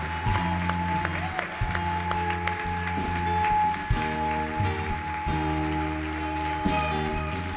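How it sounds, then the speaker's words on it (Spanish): A church congregation applauds during a worship service: a steady wash of clapping runs through the whole stretch beneath sustained music with low, held tones, moderately loud and without a break. "Dale fuerte ese aplauso al Rey."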